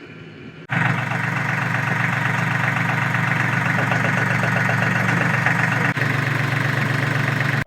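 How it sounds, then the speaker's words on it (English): A tractor engine runs at a steady idle close by at a work site where a cabin porch is being built, starting abruptly after a brief quiet moment and holding a constant, even rumble with no talk over it. "Move the tractor back over."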